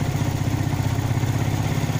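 A motorcycle engine with a carburetor fault idles and revs close by, a loud, pulsing low rumble with an uneven, sputtering flutter throughout.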